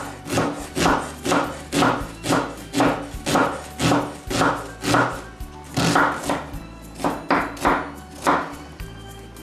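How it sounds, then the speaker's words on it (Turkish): A knife chopping a dry onion finely on a board, a steady rhythmic series of close, solid thumping cuts, nearly twenty strokes with brief pauses. "Bu şekilde soğanımızı doğradık"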